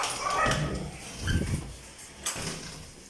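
Muffled, distant barking and whining from a group of dogs at a market, mixed with rustling background noise, the yelps short and irregular.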